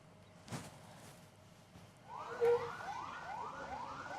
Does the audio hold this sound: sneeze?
no